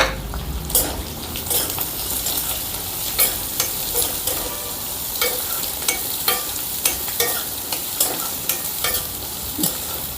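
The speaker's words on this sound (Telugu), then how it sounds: "కొద్దిగా 1 నిమిషం పాటు వీటిని వేపుకుందాం." Thinly sliced onions and garlic cloves sizzle in hot oil in a pan while a spoon stirs them, a continuous close frying hiss punctuated by regular scraping and clinking strokes against the metal.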